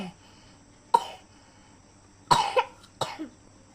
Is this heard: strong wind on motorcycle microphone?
no